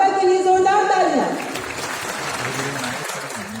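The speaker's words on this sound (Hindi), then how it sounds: "इनकी सिनेमाई कलात्मकता के लिए जोरदार तालियां।" An audience at the National Film Awards ceremony, presented by the President of India, applauds strongly. A voice speaks over the start, then the clapping continues as a dense, even wash that fades slightly toward the end.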